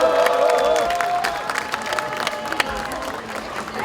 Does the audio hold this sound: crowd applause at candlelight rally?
yes